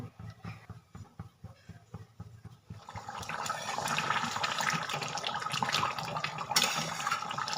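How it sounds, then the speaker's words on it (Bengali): Water is poured into a pan of mutton curry with fried potatoes, with several soft clicks and clatters first and then a steady, fairly loud rushing splash of liquid that runs to the end. "এবার দিয়ে দেবো জল দেবো ভেজে রাখা আলু"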